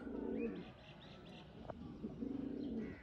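A rare Sialkoti pigeon, bred by crossing Kalsira and black-mouthed Sialkoti lines, gives soft, rolling coos in two short bursts. The calls are quiet and close, with no talking.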